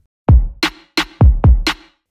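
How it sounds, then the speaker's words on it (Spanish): Baile funk tamborzão rhythm built from a deep booming kick and a bright snappy snare, with five hard, punchy hits in a syncopated pattern, loud and without any voice. "el ritmo de tamborzao de baile funk."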